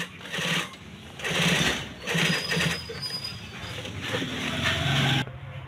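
Sewing machine stitching the edge of a men's kameez cuff, a close mechanical whirring chatter that runs in several bursts of varying length, pausing and restarting, then stopping abruptly near the end.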